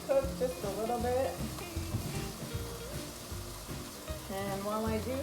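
Food for huevos a la Mexicana sizzles steadily in a hot pan, a continuous soft frying hiss with faint tonal sounds running underneath.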